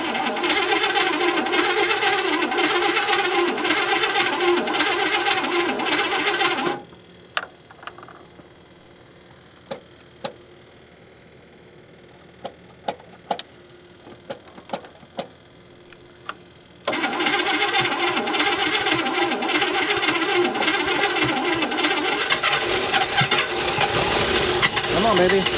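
An old abandoned International pickup truck engine cranks for several seconds, falls quiet with a few clicks and taps, then cranks loudly again, close up and steady.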